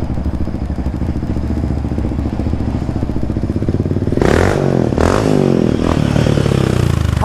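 A Yamaha Raptor 70 quad bike's small engine idling with a steady buzzing putter, then revving up sharply and loudly at close range, with clattering and rising, wavering pitch as it accelerates.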